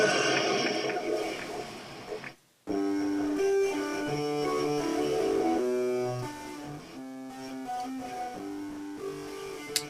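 An acoustic guitar runs through a GarageBand distortion effect. After a short gap, a sequence of sustained, buzzing notes rings out at moderate volume, with a faint hum underneath.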